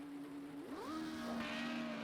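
A Formula Renault race car in a racing video game pulls out of its pit box with a steady, thin engine drone whose pitch sweeps upward and then holds. It sounds distant and faint, with no one speaking.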